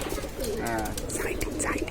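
Fancy pigeons cooing close by in a loft in soft, rolling bursts over a murmuring background, with a faint voice speaking underneath.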